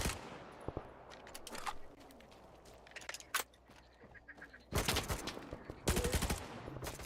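Gunfire from a weapon in No Man's Sky comes in sharp, loud bursts and single cracks, with quieter gaps of game ambience between them.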